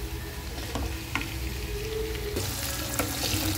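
Bitter gourd fries steadily in hot oil, a continuous close sizzle with a few faint scrapes and clinks from stirring, and no voices.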